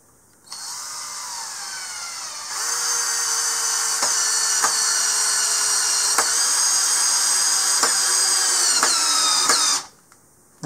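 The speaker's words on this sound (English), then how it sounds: "I can see if I can put a decking screw into the side here on the right" Hyper Tough 12-volt cordless drill drives a decking screw into wood, its motor whining steadily for about nine seconds, pitch shifting slightly as load builds, with faint ticks along the way, then stopping abruptly.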